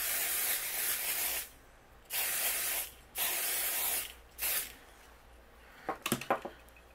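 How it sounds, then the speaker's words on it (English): Pixie Spray low tack adhesive hisses out of an aerosol can behind a stencil in four separate close bursts, followed by a short clatter as the can is set down. "what I like to do is take pixie spray. And I like to spray behind here"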